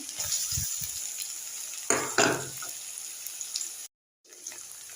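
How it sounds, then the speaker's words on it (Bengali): Onion and green chilli frying in hot oil in a home kitchen: a steady sizzle runs throughout with a few stirring scrapes and a louder burst near the middle, then a brief dropout before the sizzle resumes. "তেল গরম হয়ে গেছে পেঁয়াজ কাঁচা লঙ্কা দিয়ে দিচ্ছি"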